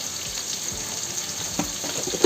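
Onions with a little salt sizzle softly in a pan while being stirred, a low, steady hiss with occasional light scrapes and a small knock at the end.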